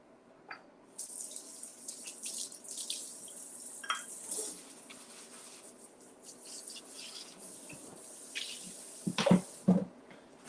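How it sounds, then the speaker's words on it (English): A kitchen faucet runs for handwashing while making cauliflower-crust pizza, a soft hissing stream with splashes and clinks, rising briefly near the end. "Let me wash my hands"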